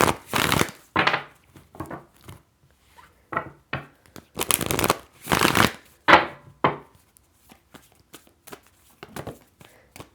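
Tarot cards being shuffled in repeated riffling bursts, close and crisp, with short pauses between rounds.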